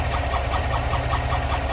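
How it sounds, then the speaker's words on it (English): L87 V8 engine in a GMC Yukon idles steadily with a fast, even ticking from a bad lifter riding over the low rumble, close and continuous. "that is the sound of a bad lifter"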